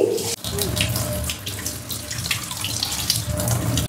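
Water runs steadily from a tap as flower petals are washed, a continuous splashing hiss with small fluctuations, interrupted briefly near the start.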